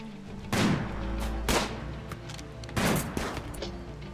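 Gunfire in the video game RimWorld: three separate bursts of shots crack out, each a loud, sharp volley with a quick decay, spaced about a second apart.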